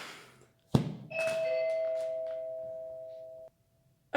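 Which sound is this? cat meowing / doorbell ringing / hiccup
doorbell ringing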